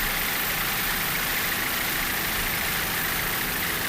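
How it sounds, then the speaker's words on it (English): Twin Mercury 280 hp outboard racing engines on a 30-foot Doug Wright catamaran in Super Stock offshore racing, a steady, loud broadband roar without letup, no voices. "It's a 30-foot Doug Wright built catamaran powered by twin Mercury 280 horsepower outboard racing engines."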